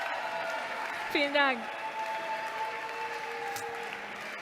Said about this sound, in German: Gerne klatschen, bis sie oben sind.